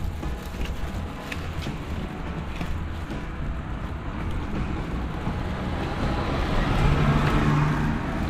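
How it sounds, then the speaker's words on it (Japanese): Heavy car traffic at an intersection by the entrance to Takachiho Shrine during a kagura festival, a continuous rumble of passing vehicles that grows louder toward the end, with wind buffeting the microphone. "車がすごい多い。"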